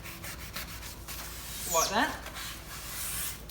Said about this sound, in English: So a couple of things that help with that cheat are these foam sanding pads.